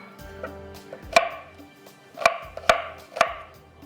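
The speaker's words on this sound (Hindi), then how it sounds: "यहाँ पर प्याज को मैं कटिंग कर लेती हूँ" A knife chops an onion on a cutting board, with four or five sharp, hollow thuds at uneven intervals and some lighter taps and rustling between them, heard close up with no talking.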